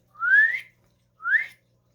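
A person whistles to call a hound, giving two short rising whistles about a second apart, clear and alone against near silence.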